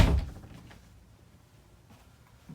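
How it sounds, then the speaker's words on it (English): Pocket door between bedroom and bathroom in a 2020 Forest River Rockwood Signature Edition 8335SB travel trailer, a single soft thud or knock at the start that fades quickly into quiet room tone. "Pocket door separating the bedroom and the bathroom."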